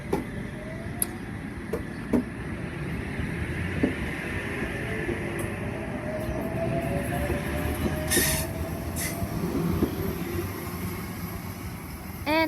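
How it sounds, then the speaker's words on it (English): A passenger train pulls away from a station platform with a steady, rumbling roll of wheels on rails, rising pitch squeals and occasional clanks, moderately loud and close, with no talking. "The Oscar train is now departing platform number 2."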